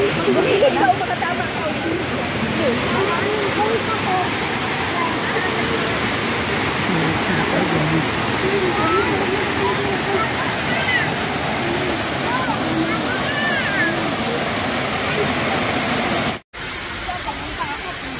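A dense, steady roar of foamy water falling at Hinulugang Taktak waterfall fills the scene without pause, then cuts briefly near the end before continuing more faintly.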